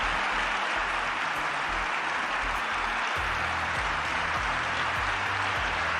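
Applause at a Middle East diplomatic event honoring Donald Trump, a loud, continuous wash of clapping from a large crowd with a low rumbling undertone, steady throughout.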